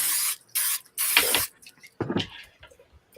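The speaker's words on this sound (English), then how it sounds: "if you spray it with the thing that's supposed to be on the pan" Cooking oil spray hisses onto shrimp in several short bursts from an aerosol can, close and crisp with pauses between sprays, followed by faint handling noises.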